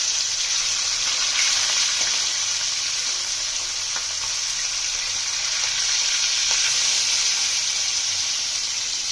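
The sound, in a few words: vetki fish frying in oil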